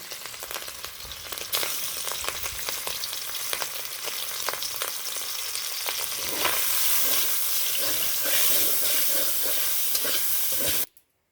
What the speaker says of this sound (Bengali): চিংড়ি মাছটা আমি ভেজে নিয়েছি, কড়াই থেকে তুলে নিয়েছি